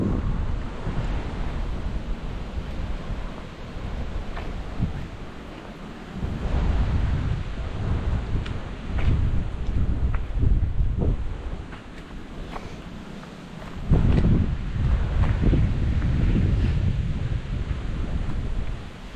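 Strong, gusting wind buffets the microphone on the Pu'u Ohia trail, a loud, continuous roar that swells in heavy bursts and eases between them, with no voices.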